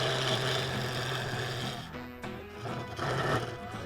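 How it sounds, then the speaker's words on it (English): A wood lathe spins a claret ash snack bowl while a 1/2 inch bowl gouge works it down, giving a steady humming drone with shifting scraping tones partway through, fairly quiet and with no talk. "I'm using that 1/2 inch bowl gouge again and just working it down."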